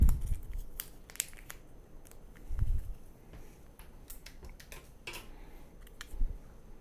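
Scissors snip open a yeast packet for a homebrew amber ale, a few sharp close cuts mixed with crinkling of the packet foil and soft handling knocks.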